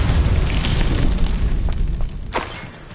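Confringo fire spell bursting in Hogwarts Legacy, a loud rumbling explosion with crackling debris that fades, followed by a sharp secondary pop near the end.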